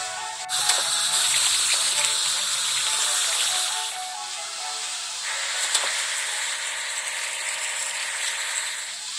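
A steady rushing hiss of washing water in a kids' island-building video game, a continuous spray that dips briefly and then resumes at the same level for several seconds.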